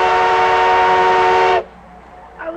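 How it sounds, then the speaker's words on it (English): A steam train whistle blasts loud and sustained as a westbound train departs, then cuts off abruptly, leaving a quieter station background with a faint later sound. "This train is leaving."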